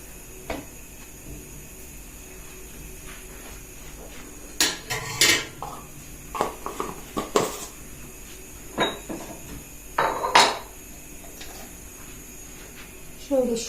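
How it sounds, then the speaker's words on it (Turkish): A spoon clattering against a pot and dishes as spoonfuls of sugar go into milk for Turkish rice pudding in a home kitchen, scattered close metallic clinks and knocks over a steady background hum. "İki kaşık şeker attım. Şimdi iki kaşık daha atacağım."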